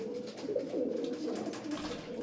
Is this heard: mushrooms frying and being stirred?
no